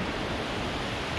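A waterfall in a Norwegian fjord running low on water, heard as a steady, broadband rushing roar that fills the short moment without pause or voices.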